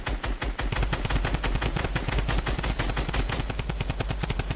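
A minigun in Fortnite fires in a long, unbroken burst of rapid shots, loud and close, with no talk.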